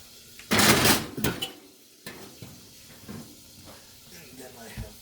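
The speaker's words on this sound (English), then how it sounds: "So the next step is just putting this in the oven." Clattering of a metal pan of lamb loin chops being slid onto an oven rack, a loud rattle at first, then softer knocks and scrapes as the oven is handled, close by.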